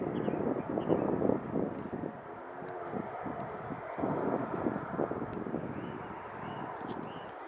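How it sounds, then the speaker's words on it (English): A Turkish Airlines airliner arrives at Manchester Airport as a continuous broad, distant roar mixed with wind buffeting, steady throughout with no talking. "just behind there we've got Turkish Airlines coming in as well"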